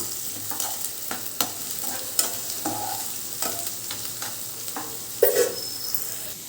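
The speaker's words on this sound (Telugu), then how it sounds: "బీరకాయ ముక్కలను కొంచెం గోల్డెన్ బ్రౌన్ వచ్చే వరకు వేయించుకోవాలి" Ridge gourd pieces fry in a kadai with onion, turning golden brown, giving a soft steady sizzle broken by sharp clinks and scrapes of stirring at irregular intervals, close and moderately loud.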